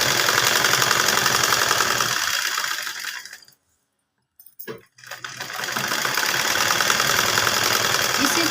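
An electric sewing machine stitches a seam joining the crotch pieces of an elastic-waist pant, a continuous close mechanical whir that stops for about a second midway, then resumes steadily.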